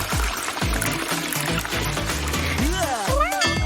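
Water poured into an aquarium dome, a steady gurgling pour running continuously beneath speech and background music.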